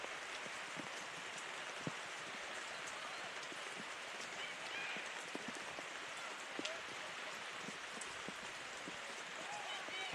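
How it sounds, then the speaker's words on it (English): Heavy rain pours down during a women's college soccer match in Vestal, New York. The steady dense hiss carries scattered sharper drop impacts throughout. "it looks to be a downpour here in Vestal, New York"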